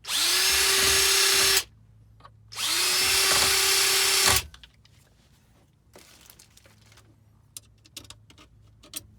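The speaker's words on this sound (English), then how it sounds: "step it up to a 5/32 drill bit just to give it a little more room" A power drill with a 5/32 bit whirs loudly in two sustained bursts of a couple seconds each, enlarging a bolt hole in a Mazda MX-5, followed by quieter clicks and handling sounds.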